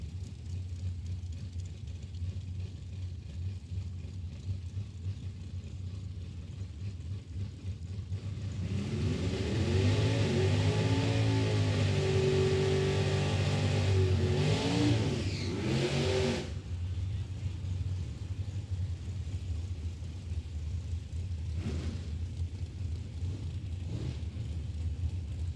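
An Oldsmobile Achieva and a dragster racing at a drag strip, a loud engine roar rising sharply after a low idle rumble, holding several seconds, then cutting off and fading back to a distant hum.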